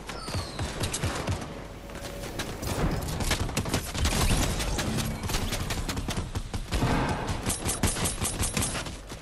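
Gunfire in a Fortnite Battle Royale match, rapid bursts of shots and clattering impacts, mixed with busy game effects, continuous and fairly loud with no talking.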